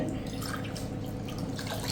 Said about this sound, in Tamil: ஒரு கிளாஸுக்கு ரெண்டு கிளாஸ் அளவு தண்ணி சேர்த்துக்கிறேன்